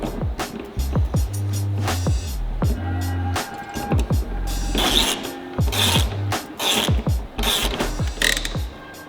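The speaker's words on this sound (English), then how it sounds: "I'm gonna do it the easy way and just tighten the e-brake cable." A ratchet tightens the e-brake cable on a Subaru WRX STI in repeated bursts of sharp mechanical clicking, each run of pawl clicks separated by short pauses, close and fairly loud.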